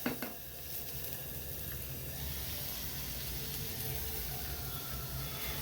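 Garlic tempering sizzles in fenugreek and asafoetida dal, a steady broadband crackle and hiss that holds evenly from a small opening burst, close and alone with no voices.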